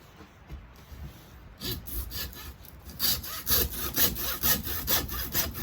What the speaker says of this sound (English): I'm going to cut this way with the hacksaw through the copper